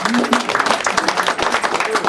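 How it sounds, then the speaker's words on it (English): Audience applause at a fundraiser event, steady dense clapping sustained throughout, fairly close, with a voice briefly audible over it. "A big round of applause to Ash Kalra."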